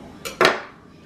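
Two quick metallic clinks of a knife against a pan or plate while Polish sausages are sliced open before grilling, close and brief, with the second louder than the first and no voices.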